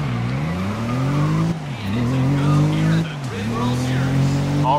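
Racing cars revving at the start of a race in GRID 2019, engines rising and falling through repeated gear shifts, loud and close, with faint tire noise and voices talking over it.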